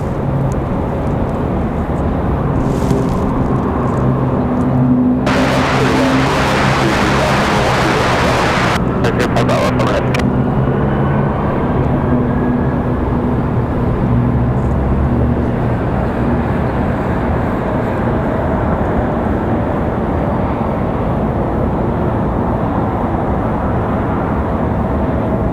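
Airplane on runway 23 left at Raleigh-Durham International Airport, a loud continuous engine roar with a brief harsh noisy burst partway through, heard under radio-style talk.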